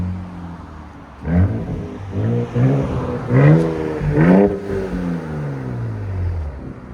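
A 2025 RAM 1500 pickup with a 3.0-litre Hurricane twin-turbo inline-six and straight pipes revs in several rising and falling blips, its deep exhaust note swelling and then easing back to idle, close and loud with no voices.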